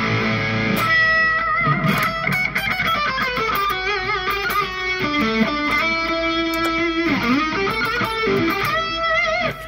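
Overdriven electric guitar lead tone through a Line 6 Pod Go with the overdrive gain raised, playing sustained melodic lines and bends, loud and continuous with effects tails and no speaking.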